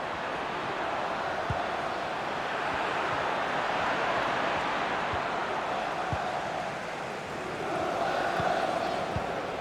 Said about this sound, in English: just listen to the crowd. They want a bit more.